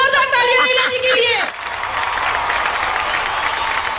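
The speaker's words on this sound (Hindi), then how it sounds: "एक बार जोरदार तालियां इला जी के लिए" On a comedy show, a voice with musical tones rings out briefly, then a studio audience breaks into full, continuous applause for a guest that carries on steadily.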